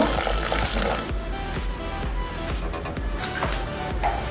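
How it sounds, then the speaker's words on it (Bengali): Water poured from a mug into a blender holding mint leaves, green chillies and chopped coriander for borhani, a steady splashing and gurgling pour lasting several seconds, fairly close and fairly loud. "এক মগের মতো পানি দিয়ে দিব"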